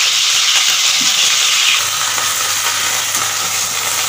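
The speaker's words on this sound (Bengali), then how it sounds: "এবার ফুলকপিগুলোকে হালকা করে ভেজে দেবো।" Cauliflower florets lightly frying in a pan with no salt or turmeric, for a Saraswati Puja bhog khichuri: a steady, loud sizzling hiss that carries on throughout with no talking.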